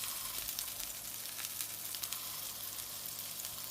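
Meat for braised kimchi browning in a hot pan, a steady dense sizzle and crackle with small pops, close and moderately loud, with no voices.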